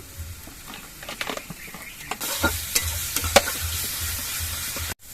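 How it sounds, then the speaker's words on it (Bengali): Ginger and green chilli paste with salt frying in a pan, a sizzle that swells and runs steadily under repeated spoon stirs and scrapes, then cuts off briefly near the end. "সব কিছু দিয়ে আমি দু তিন মিনিটের মতো মশলাগুলো ভেজে নিয়েছি"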